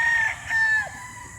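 A Boston Black rooster crowing in short, drawn-out, strained calls near the listener over a low background hum, the crow cut off after about a second.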